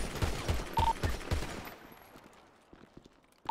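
Gunfire in a video game roleplay: a rapid burst of several sharp shots in the first second and a half, then quieter distant pops and a final loud shot near the end.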